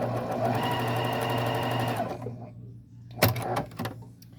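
A sewing machine runs in a fast steady whir while stitching a quilt block, then stops, followed by a few clunks and handling sounds nearby.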